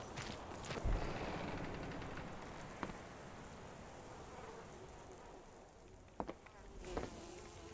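Bees buzz in the Mundaun video game near small huts on a path to a lookout, a faint steady hum with a few soft clicks, and no voices.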